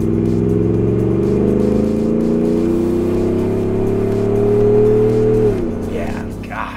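A Ford F-150 pickup's engine accelerating, a loud, close, steady drone rising gradually in pitch before easing off near the end, heard from inside the truck with road noise.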